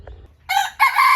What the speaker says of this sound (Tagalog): andito po yung mga alagang manok